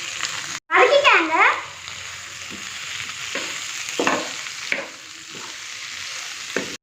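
Steady sizzling of onion and tomato sautéing in a pan, with a louder burst of stirring and scraping near the start, then a low hiss continuing.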